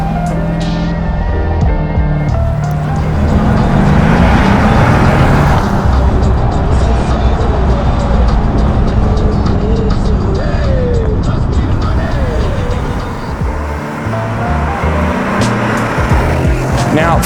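A 2012 Mercedes-Benz AMG SL63 is driven on the road, its engine note rising and falling with gear changes and loud continuous road and motor noise, with someone talking over it.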